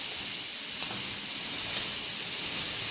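Raw tomato and garlic hitting hot oil with roasted peanuts and chilies in a pan for tomato thecha, a loud, steady sizzling hiss that fills the whole stretch without pause.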